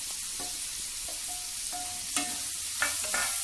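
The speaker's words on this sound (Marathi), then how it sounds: "लसूण छान परतून घेणार आहोत आपण. कांदा टाकणार आहोत." Garlic and onion sautéing in a pan for a kurdai bhaji, a steady broadband sizzle with a few sharp scraping clinks of a utensil toward the end, close and continuous with no talking.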